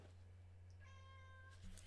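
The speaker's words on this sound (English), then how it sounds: "I have a pussy cat named Gizmo" A pet cat gives one short, fairly faint meow in the middle of the moment over a low steady hum, with no talking.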